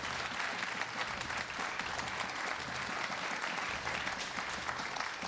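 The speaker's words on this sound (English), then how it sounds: "can we please give a big round of applause for all the beautiful boys behind me?" A crowd at a Hearthstone esports grand final applauds continuously, a dense, even wash of clapping throughout.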